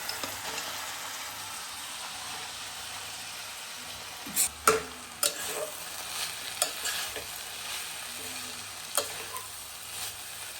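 Soaked poha being stirred into a soft tomato masala in a pan: soft continuous sizzling with a few scraping knocks of the spoon against the pan, quiet and close.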